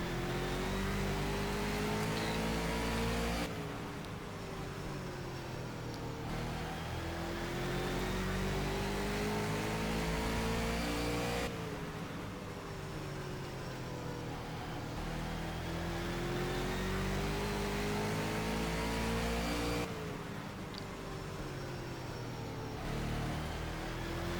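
Super late model stock car engine heard on board at Madison, a loud, steady drone with repeated surges and dips as the driver lifts and gets back on the throttle through each lap, no talking.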